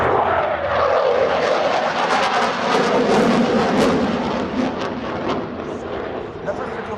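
A French Navy jet roars past at the La Ferté-Alais air show, a loud broad rushing blast that swells and slowly fades, with a commentator talking over it.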